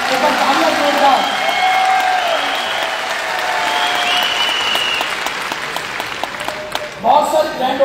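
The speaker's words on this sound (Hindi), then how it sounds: "एक बार तालियां जोरदार।" Loud, sustained applause fills a company policy update event celebrating new Ayurveda office openings, steady crowd clapping with voices mixed in, thinning toward the end before a brief burst returns.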